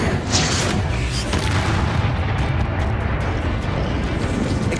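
A Confringo fire spell in Hogwarts Legacy bursts during a magic duel. There is a loud, sustained rumbling boom with crackling bursts, heavy low-end roar throughout and a few sharp hits near the start.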